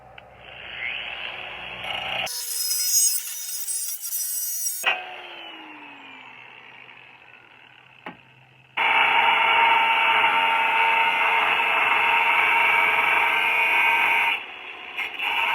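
Power tool cutting a Jeep Commander stock bumper along a marked line, loud buzzing bursts broken by short pauses, ending in a long sustained cut close by.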